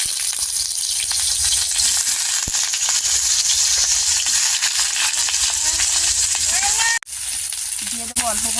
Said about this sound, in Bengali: তেলটা আমার গরম হয়ে গেছে। এবারে আমি এঁচড়গুলো দিয়ে দেব।